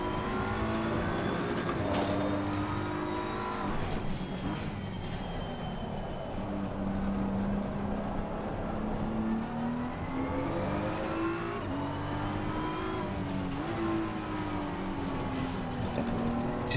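A race car engine in the racing game Assetto Corsa Competizione runs steadily, with a continuous loud drone that rises and falls in pitch through gear changes and throttle shifts.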